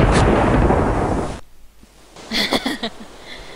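Thunderclap from a storm in a Moomin hide-and-seek video game, a loud roaring crash that cuts off abruptly, followed by a few fainter crackling bursts.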